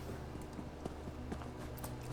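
Horse hooves clopping at a run in Elder Scrolls Online PvP campaign on Xbox One, a steady rhythm of soft repeated footfalls over a constant background hum of game ambience, no talking.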